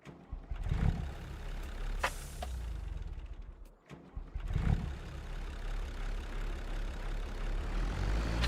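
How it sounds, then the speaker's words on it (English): A farm tractor engine runs at idle with a steady low rumble, loud and close, and a couple of brief louder surges, with no talk over it. "Refuel the tractor."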